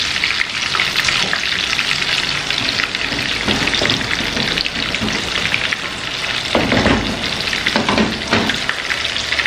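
Food sputters in a frying pan with a loud, crackling sizzle that pops and spits continuously, punctuated by occasional clattering stirs near the end, no voices present.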